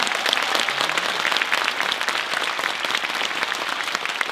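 A concert audience at a year-end orchestral show in Andong breaks into dense, sustained applause. The clapping stays loud and even for several seconds, with no voices rising above it.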